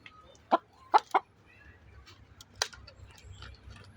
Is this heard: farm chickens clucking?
yes